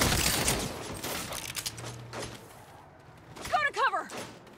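Gunfire bursts from the Saints Row video game open the moment, a dense, loud crackle that fades into lighter shots and thuds, followed by short chirping game effects near the end.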